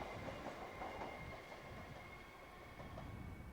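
A passenger train on the Merseyrail line passes close by in the 1990s, a steady, loud rumble of wheels and carriages with faint rail clatter throughout.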